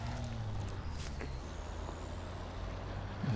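Truck in a Call of Duty game rolling along with a steady low engine drone, continuous and fairly loud throughout, with faint tonal game sounds layered over it and no talking.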